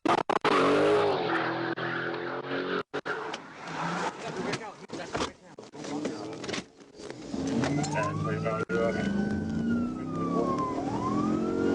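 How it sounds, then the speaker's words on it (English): A Dodge Challenger launches hard during a police chase, its tires squealing as it slides sideways. Engine roar and a siren-like wail mix with talk over the scene. "the driver stomped the gas so hard the car lost grip, sliding sideways in a little drift show before rocketing toward 140 miles per hour"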